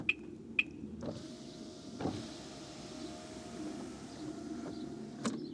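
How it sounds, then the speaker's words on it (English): Electric windows on a Skoda Octavia Mk2 whirring steadily as they open together, a low continuous motor hum lasting several seconds, with a few faint clicks and a thump near the start, quiet and close with no talking. "all the windows are now open"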